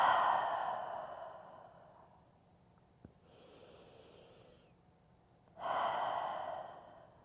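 Two deep, breathy exhales during a yoga stretch, one at the start and another near the end, with a quiet lull between them.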